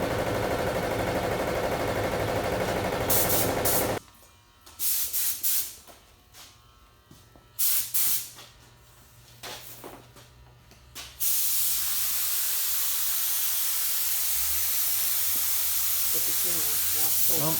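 A spray gun lays a final coat of paint on a 2007 Mustang hood: a loud continuous hiss opens, then stops for several short bursts with pauses between, before a long steady spray resumes to the end.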